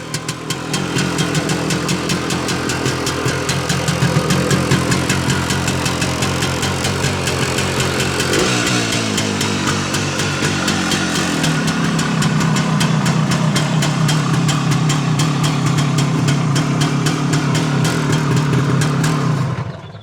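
A 1973 OSSA SDR 250 Six Day Replica, an original low-hour two-stroke motorcycle, idles steadily and loudly up close, its engine note shifting slightly midway and holding a constant buzzing drone for the full stretch.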